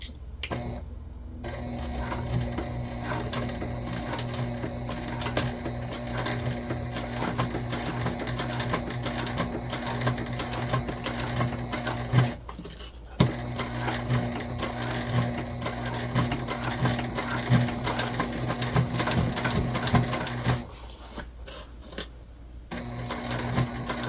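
A sewing machine stitches an oxbow tote bag in one long, steady run, loud and close, with two brief pauses.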